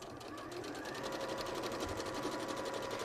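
Sewing machine stitching together pieces for the front of a cushion, a steady rapid needle rhythm running continuously at close range with no talk.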